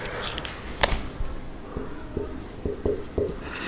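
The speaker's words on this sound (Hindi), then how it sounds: "चलिए अमाउंट पहले लिख लेता हूं" Pen strokes scratching across paper as amounts are written down by hand, soft close scribbles with a few distinct taps near the end, faint against a quiet room with no talk.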